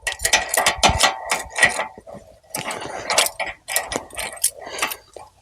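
A hand wrench works a jammed nut loose, giving bursts of clicking metallic ratchet-like sounds in uneven clusters with brief pauses between them, close and fairly loud.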